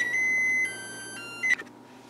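An oven timer beeps after 45 minutes of baking sourdough bread, giving a sustained tone, a gap and then a short second beep, clear and close in a quiet kitchen.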